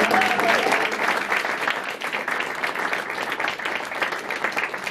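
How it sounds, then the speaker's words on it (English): A round of applause from a small crowd at a fireside chat in a new company headquarters, an even patter of many hands clapping at moderate volume throughout. "can we give Shawntera a round of applause?"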